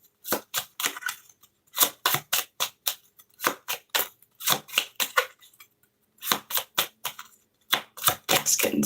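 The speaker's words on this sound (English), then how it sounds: "Deck's getting small, so it's harder to shuffle a card out of here" Small deck of tarot cards riffled and cut by hand in quick crisp bursts, sharp clicking snaps in rapid clusters separated by short pauses, close and clear with no talking.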